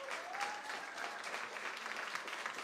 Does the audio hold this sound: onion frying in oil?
no